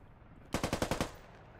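A quick burst of automatic gunfire in a multiplayer shooter game, about seven rapid shots in under half a second, loud against a quiet background and followed by a fading tail.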